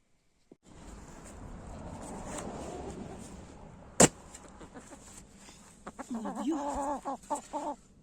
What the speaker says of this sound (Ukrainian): це знов знов та сама курка